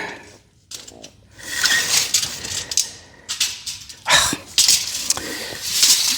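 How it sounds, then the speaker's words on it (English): A tape measure is pulled out and retracted during a horse barn stall build, giving bursts of ratcheting, rattling metal blade noise with short pauses between pulls, close and fairly loud, with no talking. "Come on, Mr. Tape Measure."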